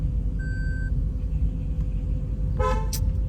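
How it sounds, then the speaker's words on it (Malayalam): Over a low car engine rumble, a short car horn toot sounds, then a second, harsher honk follows near the end. "എന്തിനാടി ഇത്രയും കിടന്ന് ഓണിക്കുന്നേ"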